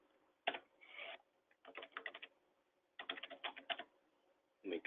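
Someone types on a computer keyboard while filling in a tax form, producing quick bursts of crisp key clicks separated by short pauses, close to the microphone and heard on their own.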